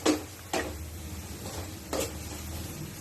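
Onions being stirred while sautéing in a pan for papaitan, with a few soft scraping strokes of a spoon against the pan over a low, steady sizzle, close and fairly quiet.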